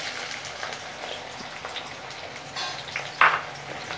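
Finely chopped small onions fry in hot oil with curry leaves, giving a steady close sizzle with a single metallic clink near the end.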